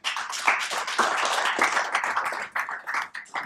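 A seminar audience applauds during a panel discussion, dense clapping from many hands sustained for a few seconds at moderate loudness, thinning briefly near the end before picking up again.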